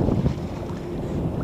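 Small fishing boat out for smallmouth bass in Northern Michigan, hull slapping and thumping over a rough wake with steady wind rush and water churn, loud and close, no voices.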